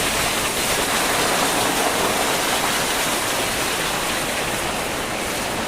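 Heavy rainwater pours down in a loud, dense, unbroken rush after a tarp collapses under its weight during a downpour, with no speech over it.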